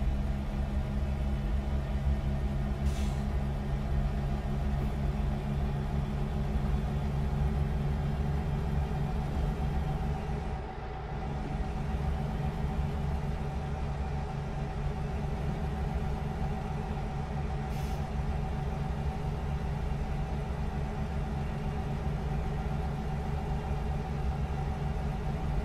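Simulated truck engine from American Truck Simulator heard from outside the cab, a steady low droning rumble holding a constant pitch throughout, with a brief dip in the middle and no voices.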